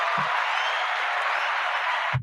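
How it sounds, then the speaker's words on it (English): A steady wash of applause fills a sports talk show for a couple of seconds, evenly sustained and moderately loud, then cuts off abruptly. "Let's give it a round of applause"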